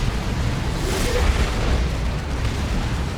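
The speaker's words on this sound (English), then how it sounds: "That was a really good Manticore shot" Manticore artillery shell exploding in the real-time strategy game Dawn of War 2 during a 3v3 battle: a dense, rumbling boom sustained over a loud, continuous wash of battle noise.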